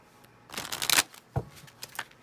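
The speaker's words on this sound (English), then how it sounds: "Shuffle one more time." A tarot deck is shuffled in short bursts: a brisk riffle, then a few quieter flicks and taps of the cards, close and soft, with no one talking.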